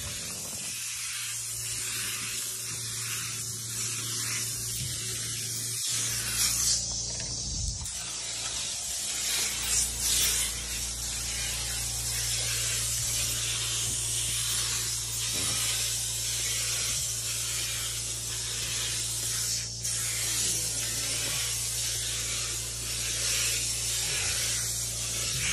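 A fogger sprays a plume of sanitizer mist, a loud continuous hiss over a low motor drone that starts after a few seconds of quieter machine noise and runs steadily to the end.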